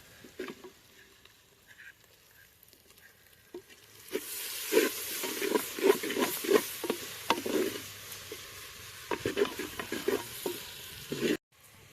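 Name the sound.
tomatoes sizzling as they are fried in a pan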